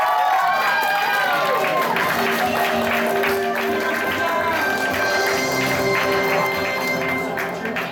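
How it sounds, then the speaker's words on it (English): Game-show audience applause at an anime convention quiz event, with a loud crowd clapping and cheering steadily throughout, a music sting with sustained tones running underneath and some voices mixed in. "Let's give a round of applause."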